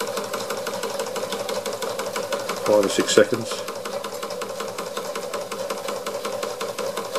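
Wilesco D141 workshop toy steam engine running close by, a steady fast mechanical chatter throughout with a brief louder clatter near the middle, while someone talks over it.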